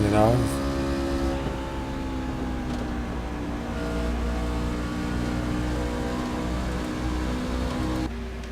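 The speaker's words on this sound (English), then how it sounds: "if you listen to that throttle" A Camping World Truck Series race truck revs hard at Rockingham, its engine note rising and falling steadily in a throttle rhythm, loud and continuous under a commentator's voice.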